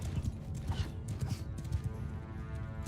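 Hooves thud in a steady rapid gallop from a horse ridden in the medieval battle game Mount & Blade 2, dense and continuous, with creaking and clatter mixed into the busy battlefield din.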